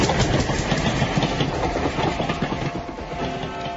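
A loud, dense rumble of a train rolling past in a radio drama, with rhythmic clickety-clack of wheels over rails, steady throughout with no voices.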